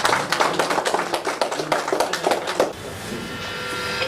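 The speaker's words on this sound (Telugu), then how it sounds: "please Bigg claps" Audience applause at an award ceremony honouring social media workers, a close, dense burst of clapping that gradually thins and fades into the room noise after a few seconds.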